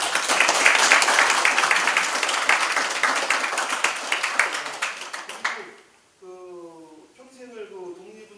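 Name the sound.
audience applause at the ceremony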